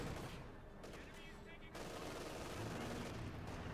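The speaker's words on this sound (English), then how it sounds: "we got the field gun opening up there" A field gun fires in the Company of Heroes 2 strategy game amid a dense, faint crackle of battle gunfire that runs continuously and thickens after the first second.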